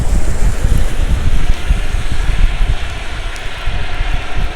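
Strong, typhoon-like wind roars steadily across the microphone during a drone flight, a loud continuous buffeting rush with no speech.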